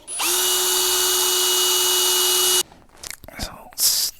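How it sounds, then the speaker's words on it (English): A power drill bores a hole in wood for a homemade spinning wheel. It gives one steady, loud whine lasting about two and a half seconds, then stops, followed by quiet handling noises and a brief scrape. "I'm gonna mark where I need the hole to be and then I will drill it."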